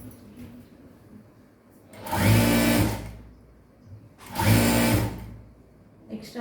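A sewing machine stitches a seam on a princess-cut blouse with lining cloth, running in two loud, close bursts of about a second each, separated by quiet pauses.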